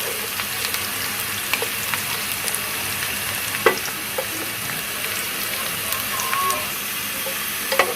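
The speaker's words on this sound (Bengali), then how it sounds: "পেঁয়াজগুলো ভেজে নেব, বেরেস্তা করব না, বেরেস্তা মোটামুটি করব" Sliced onions fry in hot oil for a duck meat curry, a continuous close sizzling hiss with scattered crackles and a few faint utensil taps, steady throughout without speech.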